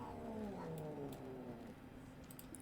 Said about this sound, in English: my cat's going absolutely ballistic on her tail